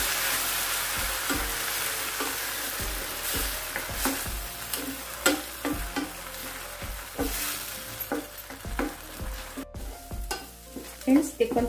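Tomato puree masala sizzles and fries in a pan for paneer tikka masala, with a steady hiss under repeated sharp scrapes and knocks of a spoon stirring against the pan.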